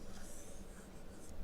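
A pen or pencil scratches faintly and steadily across paper while an equation is worked out by hand, making a soft, continuous close-up rubbing for about a second and a half with no speech.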